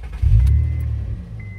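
An automatic car's engine cranks and fires up after the key is turned, a loud low rumble settling into a steady idle, close by, with no talking.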